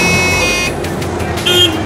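A vehicle horn gives a short toot behind a lorry on an Indian road, a bright tone heard over steady traffic and engine rumble, with a second brief honk near the end.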